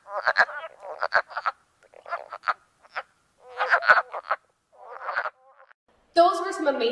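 Early spring frogs calling in Winnebago County, a chorus of short duck-like quacking croaks in irregular bursts, fairly close and clear, with a louder burst of overlapping calls at the end.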